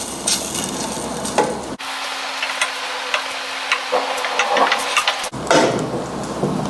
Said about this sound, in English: So you can stir it in to speed up the process.